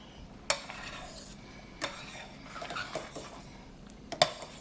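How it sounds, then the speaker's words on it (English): Shrimp creole sauce stirred in a pot with vegetables cooking, a spoon giving sparse clinks and soft scrapes against the pot over a faint simmer, close and quiet. "We're gonna stir it up."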